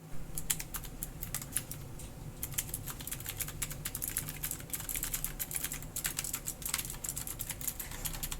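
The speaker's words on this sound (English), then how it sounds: "starting off with an HP keyboard with blue switches," Typing on an HP keyboard with blue switches, a rapid, steady stream of crisp clicky keystrokes in irregular bursts, close and clear with no talking.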